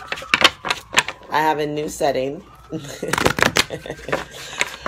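Rapid riffling shuffles of tarot cards crackle in short bursts near the microphone, broken up by a person speaking in between.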